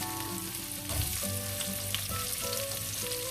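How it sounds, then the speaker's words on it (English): Two sliced medium onions fry in a pan with a loud, dense sizzle, rising with a burst as they hit the hot oil and continuing under a few stirring scrapes; nobody talks. "in goes 2 medium-sized onions that I have sliced"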